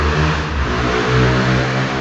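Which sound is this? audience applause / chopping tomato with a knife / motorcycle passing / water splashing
motorcycle passing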